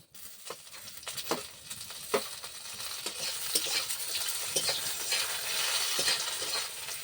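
Fried eggplant and sun-dried lentil bori stirred into hot oil with dried chilli, a steady close sizzle with scattered scrapes of the spoon against the pan, growing denser and louder over the seconds.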